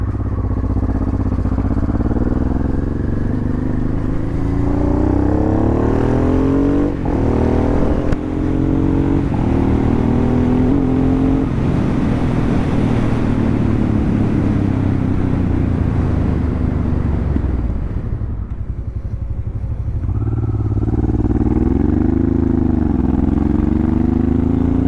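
A Honda Transalp converted to supermoto is ridden with its engine droning close and loud, rising and falling through gear changes and revs, easing off briefly before pulling hard again with wind rush.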